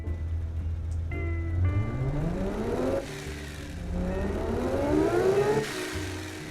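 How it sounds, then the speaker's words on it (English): A car engine in the Automation simulation game revs up repeatedly, each pass a rising whine climbing in pitch before dropping back to idle, three or four clear sweeps with no talking. "Yep, definitely a good sounding engine."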